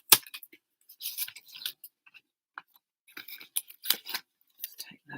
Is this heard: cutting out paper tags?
yes